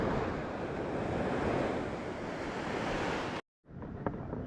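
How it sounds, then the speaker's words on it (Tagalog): Rough ocean waves surge and hiss around a small fishing boat in steady wind-blown noise, then cut out abruptly for a moment before the wash returns more faintly. "Nakakatakot naman tong"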